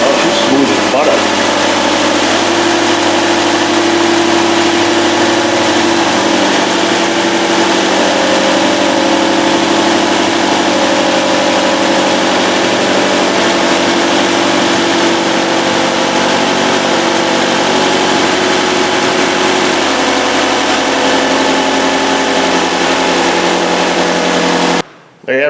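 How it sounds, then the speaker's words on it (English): A Nissan Altima 2.5 engine idles steadily after a misfire and oily spark plug tube repair, a loud, continuous, even hum with no skips, running unbroken until it cuts off at the very end. "this thing runs now without skipping"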